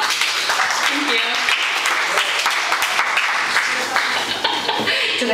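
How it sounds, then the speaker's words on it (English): Audience applause at a poetry reading: a dense, loud, steady burst of clapping from a crowd that lasts the whole stretch. "Clap, clap."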